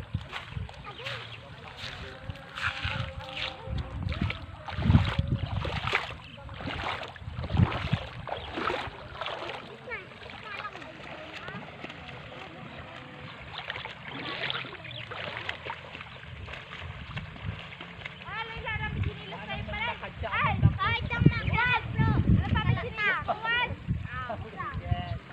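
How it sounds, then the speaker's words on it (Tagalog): People bathing in a clear river splash intermittently in bursts, mid-distance, with voices and children talking throughout over a steady outdoor background. "Sarap na sarap silang maligo sa ilog."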